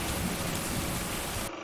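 Thunder sound effect played from a computer sound app: a steady, loud wash of broadband rumble and rain-like noise that runs unbroken, then cuts off abruptly near the end.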